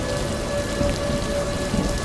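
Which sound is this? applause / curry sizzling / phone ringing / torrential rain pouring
torrential rain pouring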